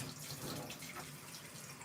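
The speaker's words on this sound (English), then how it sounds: "let me rerun my water" Running water from a kitchen tap, a steady hissing splash filling the sink, close and continuous with no voices.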